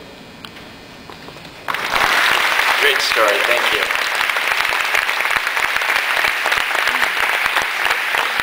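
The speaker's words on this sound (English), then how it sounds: "Let's give him one more big applause." Audience applause at a Marines retirement of the colors event, dense crowd clapping breaking out loudly after a short spoken thank-you and continuing steadily to the end.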